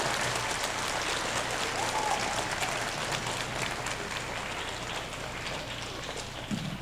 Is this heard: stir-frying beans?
no